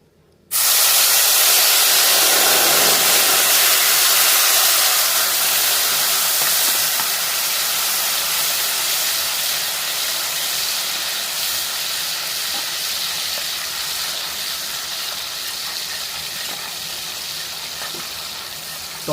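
Tomato paste hits hot mustard oil in a pan with a sudden loud sizzle that settles into a steady, bright hiss, slowly fading over the long stretch.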